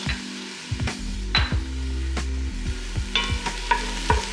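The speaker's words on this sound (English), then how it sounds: "very little smells better than onions and garlic cooking together" Onions with a large clove of garlic sizzle and fry in a pan for chili, with stirring scrapes and a few utensil knocks over the steady crackle.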